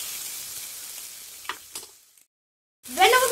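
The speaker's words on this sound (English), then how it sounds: "After 1 minute, we add cabbage and mix them properly." Chopped tomatoes and cabbage sizzle and fry in a pan while being stirred and mixed, a steady hiss with a few scraping stirs, a brief quiet gap, then a louder burst of sizzling as the mixing resumes.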